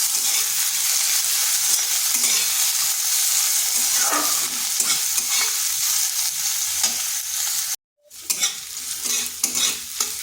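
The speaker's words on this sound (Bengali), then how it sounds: "হালকা একটু পেঁয়াজটা ভেজে নেব।" Sliced onion frying in a pan, a steady close sizzle broken by stirring scrapes, with a brief cut of silence near the end before the frying resumes.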